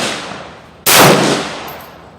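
A single sharp, loud AR-15 rifle shot with NATO ammunition at an outdoor 100-yard range, a sudden blast that decays over about a second.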